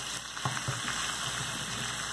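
Steady crackling sizzle of chicken frying in butter, a dense hiss with a few soft pops, close and continuous.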